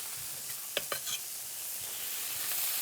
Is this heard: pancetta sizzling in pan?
yes